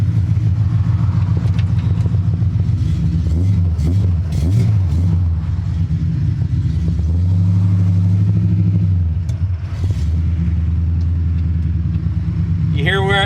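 An AMX car engine converted to EFI revs and sags, nearly stalling before it catches and picks back up. The rumble stays loud and close, and someone talks over parts of it.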